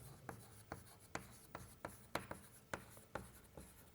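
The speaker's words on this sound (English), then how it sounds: "But I just want to write that down." Chalk or marker writing on a lecture-hall board, a regular series of about a dozen crisp taps and short scrapes, close and fairly faint, with no voice over them.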